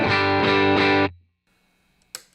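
A guitar through a UAFX Dream 65 pedal into a vintage 1966 Fender Super Reverb 4x10 cab with original CTS speakers, miked with a 414 condenser, plays a few driven chords that ring briefly and cut off into near silence.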